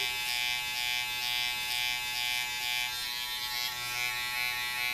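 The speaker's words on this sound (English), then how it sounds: "you got to shave all that hair off" Electric hair clippers shave hair from a head during a combover haircut, worked with the tip of the blade and no full guard; a close, steady buzzing whine runs unbroken throughout.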